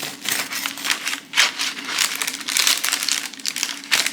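A knife saws through a warm loaf of banana bread, giving close, loud, repeated crackly scraping strokes as the crust and crumb give way, with no talk.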